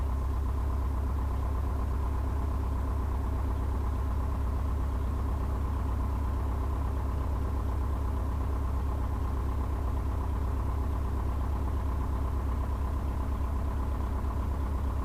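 A small airplane's engine idles slightly high before its run-up, a steady low droning hum that holds unchanged throughout with no voices.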